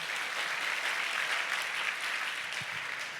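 Steady, dense applause from a church congregation at a Sunday service fills the room, sustained and even throughout with no voices on top.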